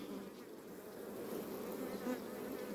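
Honey bees swarming around an open beehive during a frame inspection, a dense continuous buzz that is close and steady throughout.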